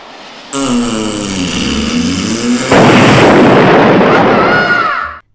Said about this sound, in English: Toilets in the train blew up moments before it arrived in Edinburgh